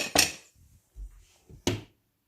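Sheer khurma, a thick sweet vermicelli milk pudding, being scooped from a pot into a bowl: two sharp metallic clinks of a serving spoon against the pot, with soft scraping and dull knocks between them, close and alone.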